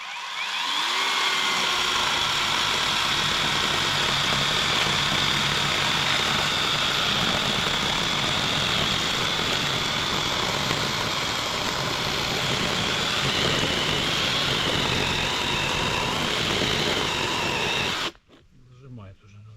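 A saw cuts wood while a cabin is built in a forest by a pond. The motorized cutting drone is loud and continuous for nearly twenty seconds, then cuts off abruptly near the end.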